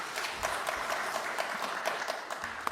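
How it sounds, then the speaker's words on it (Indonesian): Applause from a crowd in an Indonesian parliamentary (DPR) hearing room, a steady, fairly faint patter of many clapping hands lasting a few seconds without pause. "Tepuk tangan dulu buat kita semua."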